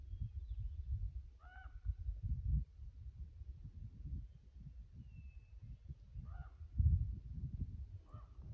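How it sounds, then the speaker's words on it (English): Distant crow calls in thick woods, a few faint cawing bursts spaced several seconds apart over low rumbling background noise. "That's a crow."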